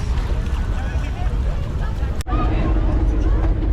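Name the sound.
boat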